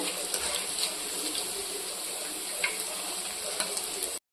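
Boondi frying in hot oil for sweet-shop style boondi, a steady close crackling sizzle with scattered small pops continuing evenly, then cutting off abruptly.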